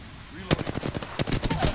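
Machine gun fire in the shooter game Apex Legends, a short quick rattling burst of shots, a brief gap, then a second rapid burst, loud and close with no talking.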